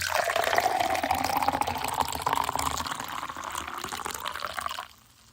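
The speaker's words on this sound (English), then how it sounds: "I'd offer to pour you a cup, but it's much too late for you." Coffee pours into a cup in a steady, close liquid stream with a rising gurgle as the cup fills, then stops abruptly near the end, with no talking.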